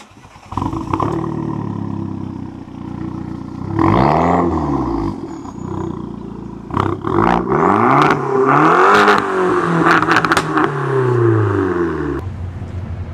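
A Fiat Punto Abarth Evo engine revs and pulls away on a road test, loud and near, with rising and falling sweeps through the gears and a brief lull between pulls.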